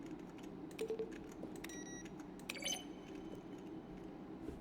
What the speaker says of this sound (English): A selection of sounds used throughout the game when buttons are pressed. Each sound is a mix of a keyboard stroke and a synthesized note.